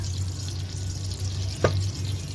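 Quarter cup of mustard oil poured into a pan and heating, giving a soft steady sizzle with a low hum beneath and one brief clink near the end.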